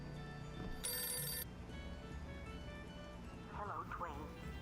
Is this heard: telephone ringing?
yes